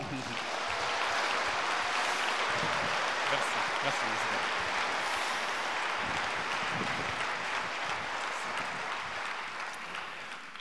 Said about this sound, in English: Je vous demande un tonnerre d'applaudissements pour Monsieur Christian Kinnear